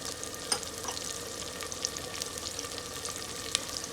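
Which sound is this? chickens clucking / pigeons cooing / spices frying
spices frying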